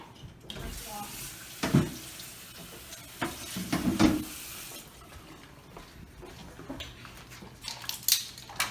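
Tap water runs into a kitchen sink to rinse off a cutting board during an egg drop soup cooking demo, heard as a few splashing bursts over a steady low wash.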